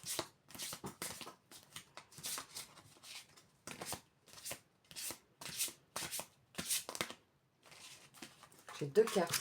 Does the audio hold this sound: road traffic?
no